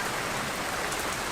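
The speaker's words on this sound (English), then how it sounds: "she's raining again." Hard rain pours down outdoors as a steady, dense hiss of drops striking surfaces, loud and unbroken throughout with no voices.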